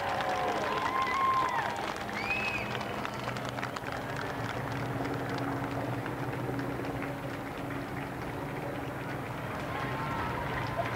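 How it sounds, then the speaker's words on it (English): A distant crowd along the Mall in London applauds new Prime Minister Tony Blair on election day 1997, a faint, steady clapping murmur beneath occasional shouts and a commentator's voice. "he gets applause as he turns out into the Mall"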